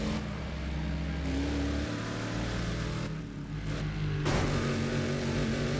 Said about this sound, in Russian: То есть у нее наполовину звук мотора слышен.